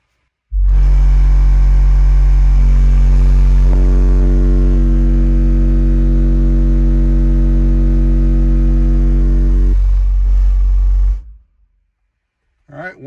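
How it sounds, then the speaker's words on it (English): A steady 46 Hz bass test tone plays through a car audio system driven by an old-school Hifonics or Orion amplifier inside a vehicle during SPL testing, a very loud sustained droning hum with buzzing overtones lasting about ten seconds before cutting off. "We found 46 hertz to be the best frequency here for doing the SPL test in the vehicle."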